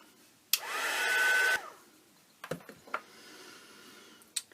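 Heat drying tool blows steadily on a paper craft layer for about a second, loud and close, then cuts off, followed by a few light taps and handling sounds.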